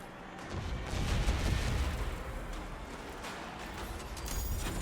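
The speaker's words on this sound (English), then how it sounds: "That missile barrage is much more aggressive this time around." A missile barrage in Destiny's Shattered Realm pounds as a dense, continuous run of rumbling explosions and impacts, loud and sustained across several seconds with no pauses.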